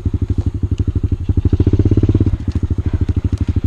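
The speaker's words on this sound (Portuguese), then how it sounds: "Janaína fazendo trilha sozinha de mini moto." A mini motorbike rides alone along an overgrown trail near abandoned places, its small engine a loud, rapid, steady pulsing putter that swells slightly mid-ride, close up, with faint clatter over the rough ground.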